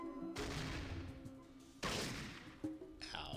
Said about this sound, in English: Why is everybody shooting me?